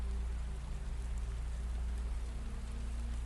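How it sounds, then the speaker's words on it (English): Steady rain falls on wet sand and twisted oak branches on a coastal island, a dense, even patter of drops with no breaks, close and continuous throughout. "Steady drops falling on Croatoan Island, tapping against wet sand and twisted oak branches"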